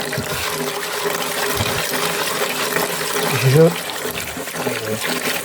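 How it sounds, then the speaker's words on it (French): Cold running water flows steadily while sediment sand from the middle Lutetian of the Paris Basin is rinsed, a continuous close splashing wash with a brief louder surge near the end. "Donc là, je vais passer à l'eau froide."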